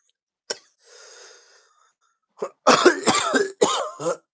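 A few harsh coughs and a raspy wheezing breath, followed by a burst of rough, throaty coughing fits close to the mic.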